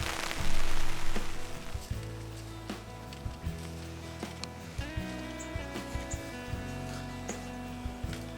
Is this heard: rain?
yes